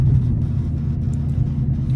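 Steady low engine rumble and road drone inside a moving Chrysler 300, heard from the cabin, constant and even with no talking.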